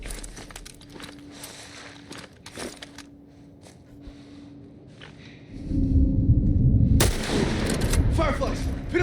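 Sharp gunshots crack a few times in The Last of Us Part I video game over a quiet background with faint footsteps, then a loud, rushing noise takes over for the final seconds.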